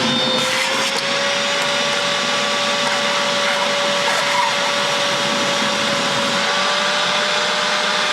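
A Central Machinery 2.5 gallon wet/dry shop vac runs steadily while sucking water from a sink, a loud constant motor whine with a high airflow hiss throughout, no talking.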